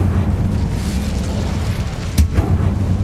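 The Incendio fire spell erupts in the video game Hogwarts Legacy, a dense roaring burst over a rumbling game soundscape, with a sharp crackling flare near the end.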